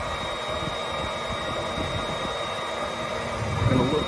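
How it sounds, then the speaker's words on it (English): A leaf blower forces air into a car exhaust to find leaks, making a steady, loud whooshing roar with a faint hum. It holds constant throughout and swells slightly near the end. "Luke, hit the leaf blower"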